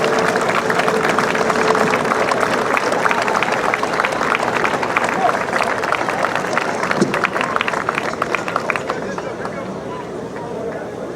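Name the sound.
crowd applause for public servants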